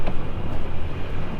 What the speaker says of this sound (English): She's just making sure that we really are stuck by spinning those tires, getting us nice and deep.